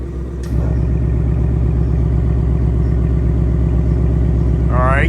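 A Ford Mustang engine in sport mode starts with a sharp burst, then settles into a loud, steady, close rumble that holds throughout.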